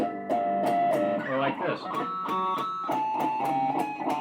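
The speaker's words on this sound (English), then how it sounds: "all you're doing with a pinch harmonic is you're taking your note" Distorted electric guitar playing metal-style pinch harmonics: picked notes with high, squealing overtones that ring out loudly in quick succession, and a voice speaks briefly.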